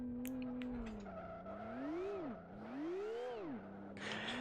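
A racing-game car engine in Live For Speed whines and swoops in pitch as tires skid and squeal through a spin on the infield, with the motor revving up and down.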